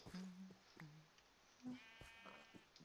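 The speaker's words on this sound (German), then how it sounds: "jetzt rennen die Schafe und die Kühe hinter mir her" Minecraft sheep bleat several times in short, close calls among soft game background sounds, with cows also nearby on the farm.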